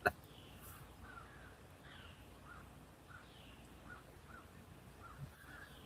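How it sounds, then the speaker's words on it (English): Real crows caw outdoors at a distance, a series of faint, harsh calls spread across a quiet background, with one soft knock at the start. "the good thing about the birds being real is they sound really good"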